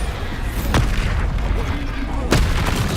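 Bombarda blasting spell detonations in Hogwarts Legacy, two sharp booming bursts about a second and a half apart over a dense, continuous game soundscape of rumble and effects.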